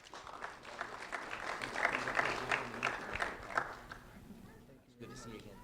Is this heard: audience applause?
yes